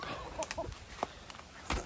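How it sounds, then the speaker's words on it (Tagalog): Farm chickens give a few short, soft clucks at a distance. The calls are spaced irregularly over quiet outdoor background noise, with no one talking. "Ito yung mga manok."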